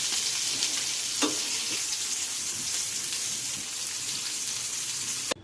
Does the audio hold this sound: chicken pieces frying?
yes